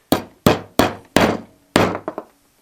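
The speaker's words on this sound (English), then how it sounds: "this is why I'm using a hammer for that" Five sharp hammer blows driving a metal pin through a wooden auger handle at a steady pace, the last followed by two quicker lighter taps, close and loud with no talking.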